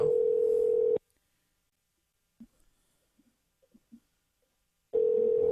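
Ringback tone on an outgoing phone call: a steady, loud, single-pitched ring burst, a pause of about four seconds with faint scattered clicks, then the next ring burst starting.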